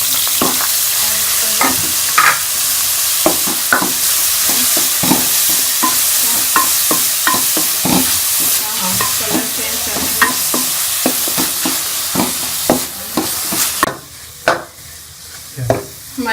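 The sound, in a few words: onions frying in ghee with whole garam masala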